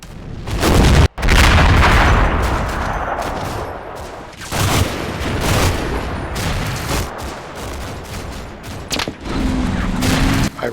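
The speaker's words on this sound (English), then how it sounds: "mortar fire quickly targets my position" In a Combat Mission Final Blitzkrieg battle near Aachen, incoming mortar rounds and gunfire crash close by, with heavy booms and rattling bursts of shots that roll continuously and loudly.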